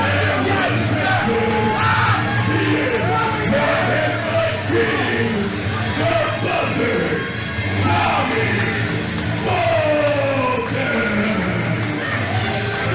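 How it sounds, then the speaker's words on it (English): Wrestling fans in an arena boo and jeer a wrestler, a loud sustained crowd roar of yells and boos that rises and falls without letup. "these fans are booing this man"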